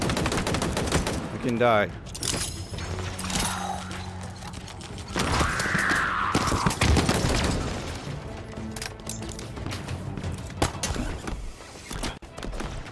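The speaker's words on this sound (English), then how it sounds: "See, I'm just getting shot immediately." Rapid gunfire and impact clatter keep hitting the player during the final mission of the Halo Infinite campaign, a steady mechanical rattle of shots under game effects, with a brief spoken line over it.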